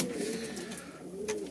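Pigeons perched nearby give soft, low cooing calls, a couple of rolling coos heard fairly close but quietly over faint outdoor background, with no talk.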